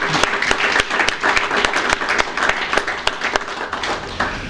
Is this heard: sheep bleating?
no